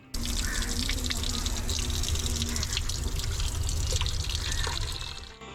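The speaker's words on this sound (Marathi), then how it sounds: "मंदिराबाहेरच्या गोमुखातून अभिषेकाचं पाणी या कुंडात येऊन जमा होते" Abhishek water runs from a cow-mouth spout outside a temple and falls into a tank, making a continuous splashing rush that holds steady for several seconds, then eases slightly at the end.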